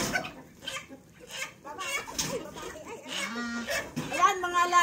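Farm chickens cluck and call in short bursts at feeding time, fairly close, with a person speaking over them throughout.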